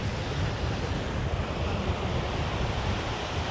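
Ocean waves wash steadily onto a shell-free beach at Disney's Lookout Cay, a continuous roaring surf with wind noise over the microphone and no talk.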